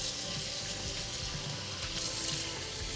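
Running water rinsing conditioner out of a curly clip-in hair extension, a steady, fairly quiet hiss of flowing tap water with no talk.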